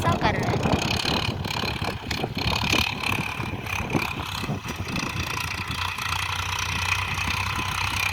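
A tractor engine drones steadily while the tractor turns, a continuous close rumble buffeted by wind on the microphone.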